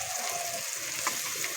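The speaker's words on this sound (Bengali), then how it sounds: "বিনস আর ক্যাপসিকামটা ভালো করে ভেজে নেব।" Green beans and capsicum sizzle in a hot pan with oil, a steady close frying hiss throughout with faint stirring.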